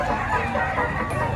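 Gamecock chickens cluck softly amid the busy background murmur of a poultry sale in Padre Garcia, Batangas, with voices faintly present in the crowd noise.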